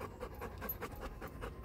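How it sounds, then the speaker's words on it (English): Two dogs panting hard after running around a backyard, with quick, rhythmic, breathy huffs close to the microphone but fairly quiet, and no talking. "My dogs are panting because they're running and running in my yard"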